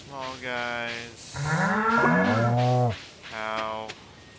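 A cow in the farming game Stardew Valley moos in a few drawn-out calls, close and fairly loud, with no talk around them.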